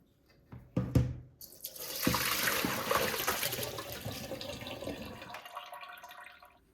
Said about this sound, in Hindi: चावलों को पानी से निकाल लेते हैं।